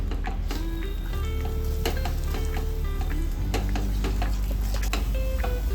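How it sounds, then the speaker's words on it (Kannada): Ground moong dal frying in hot ghee for halwa, a constant crackling sizzle with frequent sharp ticks and scrapes from a spoon working the pan, close and loud throughout, no voices. "ನಾನು ರುಬ್ಕೊಂಡಿರೋಂಥ ಹೆಸರುಬೇಳೆನ ಇದಕ್ಕೆ ಹಾಕೋತಾ ಇದ್ದೀನಿ. ನೋಡಿ, ಇದರ ನೀಟಾಗಿ ಫ್ರೈ ಮಾಡ್ಕೊಳ್ಳಿ."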